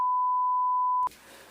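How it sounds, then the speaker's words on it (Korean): A single steady electronic beep holds for about a second, loud and clean, then cuts off abruptly into quiet background noise. "삐 소리 엄청나요. 지금 봐, 여기 사방에서 이렇게 나는데."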